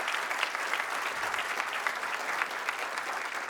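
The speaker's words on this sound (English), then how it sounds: "we can do rounds of applause if you want" A round of applause at a university film and television awards ceremony, an audience clapping steadily and evenly throughout, moderately distant, with no talking over it.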